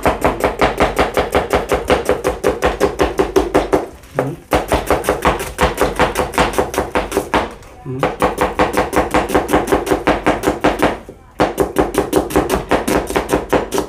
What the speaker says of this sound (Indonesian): Sekali lagi saya akan memotong juga